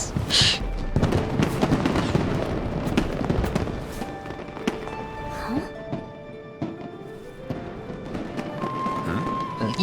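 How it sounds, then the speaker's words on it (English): Fireworks going off in a Genshin Impact cutscene: a dense run of booms and crackling bursts over game music, loudest in the first seconds, then lighter pops and thumps continuing throughout. "Oh, fireworks!"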